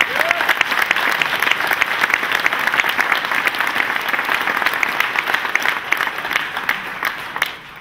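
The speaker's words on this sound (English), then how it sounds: "give them a thunderous round of applause" A large awards-ceremony crowd gives a loud, sustained round of applause for the backstage crew at the 2012 BCMA event, dense continuous clapping that tapers slightly at the end.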